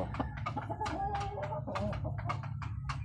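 A Red Kelso cross gamefowl stag, a five-month-old young rooster, gives a run of short clucks and calls close by, with steady low farmyard hum underneath and no talking.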